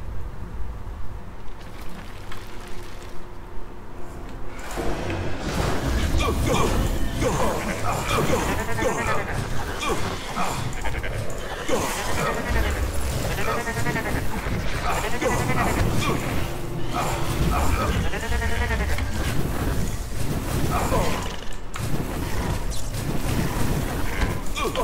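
Goat demons bleat in the dungeon-crawler game Book of Demons, the calls mixed into a dense, continuous wash of game music and effects after a quieter opening few seconds.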